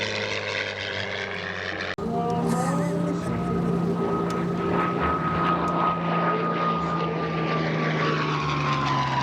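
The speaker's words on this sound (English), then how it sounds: "Part of our display here, led by the P-47, followed by the P-40." A P-47 and a P-40 fighter plane fly past at an air show, their propeller engines droning loudly and steadily over the whole stretch, swelling after a brief break near the start.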